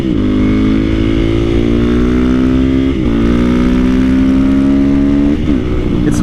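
A Honda CRF450R supermoto motorcycle rides on a road with its single-cylinder engine droning loud and close, pitch climbing steadily through gears with two brief shift dips, alone without voices.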